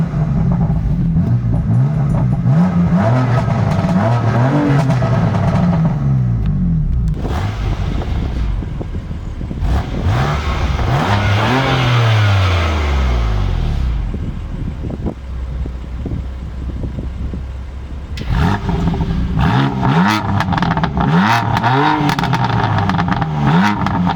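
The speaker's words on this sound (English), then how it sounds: "So now the exhaust valve actually opens up and it will do some little burbles and pops." BMW F80 M3 in sport plus mode with its exhaust valve open, revving loudly in repeated surges that rise and fall, with gaps of lower idle between, and crackling burbles and pops as revs drop; close and loud, no talking.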